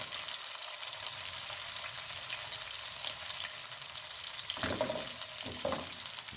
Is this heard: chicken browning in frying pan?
yes